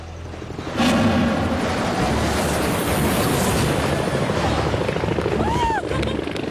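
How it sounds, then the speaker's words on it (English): Helicopter rotor noise roars loudly and steadily close by on a cooking-competition set, a broadband wash of beating blades and wind that starts abruptly and runs throughout. "I hear the propeller noise, I feel the dust, the wind."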